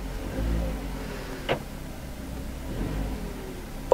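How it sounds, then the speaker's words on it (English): Used Vauxhall Corsa with many faults idling with a slight exhaust noise, a low steady engine rumble with a couple of brief sharper ticks or knocks standing out over the hum. "Sounds like we've got a little bit of an exhaust noise,"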